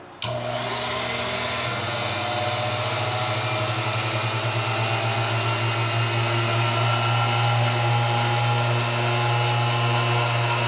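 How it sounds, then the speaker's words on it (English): A motorized drill whirs steadily for several seconds, with a low pulsing grind as it bites into stone while drilling a hole. "as I start to drill my hole"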